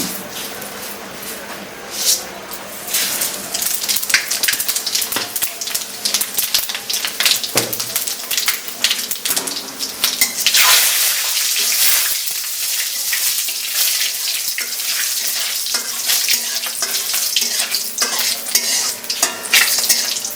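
Dry red chillies and panch phoron spices crackle and sizzle in hot oil while being stirred, a loud, steady frying hiss with scraping clinks, busier in the first half and settling into an even sizzle.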